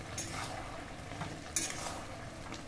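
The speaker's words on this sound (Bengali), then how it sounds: "দিয়ে দিচ্ছি পরিমাণ মতো হলুদ, দিয়ে দিচ্ছি স্বাদ মতো লবণ। আবারও খুব ভালো করে নেড়ে নেব।" Tomato pickle with added salt and turmeric is stirred in a pan, making a soft, low sizzle with light utensil scrapes and one brief clink, quiet and close, with no talking.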